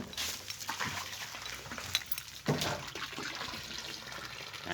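Water pours steadily into a concrete pond used for raising apple snails. The splashing is continuous and close, with a brief louder burst midway and a dog faintly in the background.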